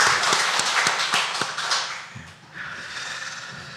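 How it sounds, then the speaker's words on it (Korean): Congregation at a Korean Holiness church Sunday service clapping together in thanks, a dense burst of many hands with sharp individual claps standing out, fading after a couple of seconds before a softer murmur of the room. "감사의 박수 한번 다 같이 한번 올리겠습니다."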